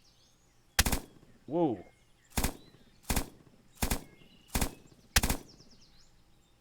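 Rifle shots in the Eminus shooting game, six sharp loud reports spaced roughly a second apart, with a brief exclaimed voice between the first two and quiet background in between.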